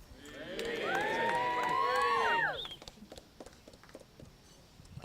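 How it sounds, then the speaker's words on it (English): Wedding guests cheer and whoop together after a toast to Megan, a loud burst of many voices that swells for about two seconds, then drops away into scattered chatter. "will you raise your glass and give us a cheer for Megan"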